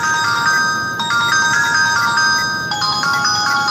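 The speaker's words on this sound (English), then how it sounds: "that was my alarm reminding me to go render Caesar" A phone alarm reminder rings with a bright, repeating electronic melody, loud and steady for several seconds with no other sounds.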